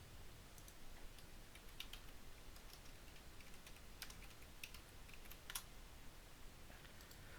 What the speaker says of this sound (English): I'll type it in the chat right now